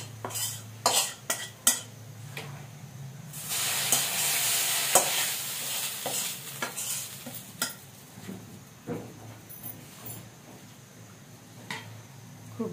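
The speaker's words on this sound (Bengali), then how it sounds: "এবার আমি পেঁয়াজ বেরেস্তাটা ঢেলে দিচ্ছি।" Fried onions tip into a pot of khichuri on the stove, then a spoon scrapes and stirs through it with clinks against the metal pot, a soft sizzle swelling midway and fading.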